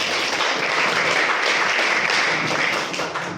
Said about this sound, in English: Let's kick off this exciting morning with a big round of applause